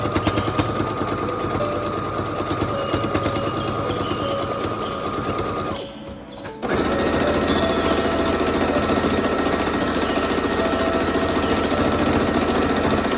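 Sewing machine running steadily, stitching a straight line down the middle of ironed fabric ties for a homemade face mask; a continuous close whir that drops out briefly near the midpoint, then resumes just as loudly.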